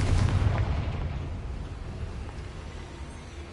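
Fiery Confringo spell explosion in Hogwarts Legacy, a deep booming blast with a rumbling tail that slowly fades over a few seconds.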